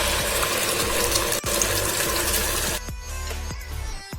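An electric mixer grinder spins onion paste with masala for a Punjabi chicken gravy, a loud close whirring grind with rattling mechanical texture that drops to a lighter, choppier churn near the end, with no talking.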